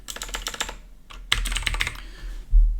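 Code is typed on a computer keyboard in quick bursts of crisp, close key clicks, with a short pause between runs and a heavier thump at the end.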